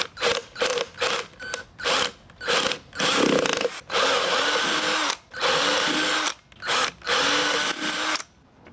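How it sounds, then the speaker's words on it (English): A power drill whirs in short repeated bursts, drilling holes in a 25cc RC boat during assembly, stopping and starting again and again, close by with a loud, steady whine during each run. "So I'll drill these holes out,"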